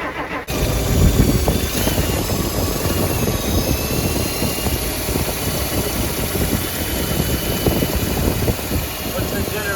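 Rolls-Royce Silver Cloud engine with a freshly repaired generator cranks and catches abruptly, then settles into a loud, steady, rumbling idle close by for the rest of the stretch.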